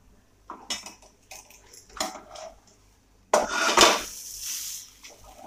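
A semolina snack being flipped in a pan, heard as a few scraping spatula strokes and metallic clinks, then a louder, steady sizzle as the turned side hits the hot pan.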